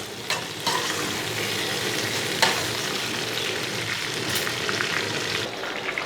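Potatoes fry with green chilies in a pan under a steady, crackling sizzle with occasional utensil clinks and stirring, close by and constant throughout with no voices.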